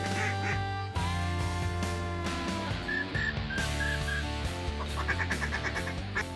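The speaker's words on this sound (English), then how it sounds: "Here comes the ducks." Ducks quack repeatedly near a flooded pit blind during a waterfowl hunt, a run of honking calls over a sustained musical tone, moderately close and fairly clear.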